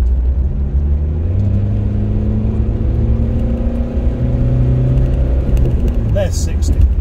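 A Rover 75 diesel car accelerates along a road from about 30 to 40 mph, its engine a steady low drone with rising harmonic whine running continuously under a voice.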